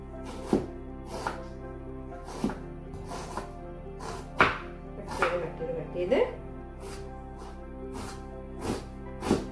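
Vegetables chopped on a board with a knife, about a dozen uneven thuds spaced a second or so apart, heard under a person talking steadily.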